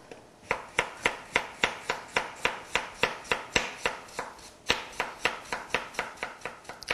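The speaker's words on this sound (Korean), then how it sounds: "썰으실 적에는 양파 썰듯이 아주 얇게 썰어서 익는 시간을 최소한도로 줄여" Knife slicing potatoes very thinly on a cutting board while preparing vichyssoise soup: a brisk, even run of about twenty crisp chops, close and clear, with no talking.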